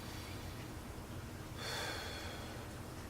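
A slow breath is let out during a guided chakra meditation, a soft airy exhale swelling midway over a quiet, steady background hiss.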